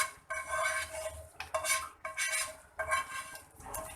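Metal spoon scraping and clanking in a pan as chicken shashlik is stirred together with fried onions, capsicum and green onions, in several rhythmic bursts with brief pauses, close up and no talking.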